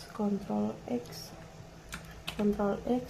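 Computer keyboard typing while working in the nano text editor on a command line, a few sharp key clicks scattered between bursts of nearby speech.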